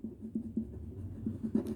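Pen or chalk writing by hand in a class lesson, a soft irregular series of small taps and scratches with no talking.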